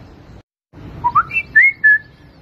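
A person whistles an imitation of the WhatsApp bird sound: a short run of quick, rising chirpy notes climbing in pitch, then two longer high whistles, close and clear.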